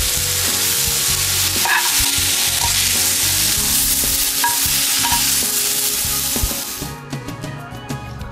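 Mediterranean vegetables seasoned with herbes de Provence sizzle and fry steadily in a pan, with stirring and scraping. The sound is loud and continuous, then eases off near the end.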